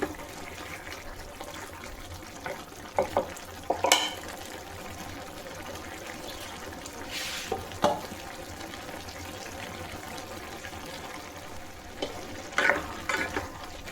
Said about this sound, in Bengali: এবার একটু নেড়ে দিই।